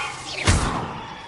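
Levioso, the levitation spell in Hogwarts Legacy, goes off as a single soft thump with a brief swooshing rush, quickly fading into a quiet room tone.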